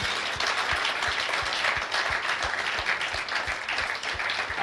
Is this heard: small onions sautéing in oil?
no